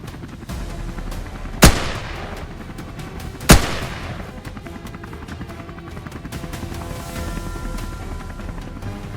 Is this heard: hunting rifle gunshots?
yes